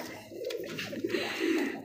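Pigeons of a fancy breed collection coo softly in a short, low burble of a couple of rolling calls, close by and fairly quiet.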